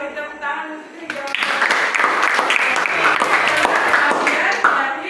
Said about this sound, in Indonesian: Beri tepuk tangan untuk dijawab.